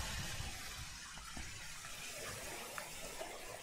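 Rushing waterfall water in the Uncharted: The Lost Legacy video game, a steady broad wash of flowing water that continues unbroken throughout at moderate level, with no talk over it.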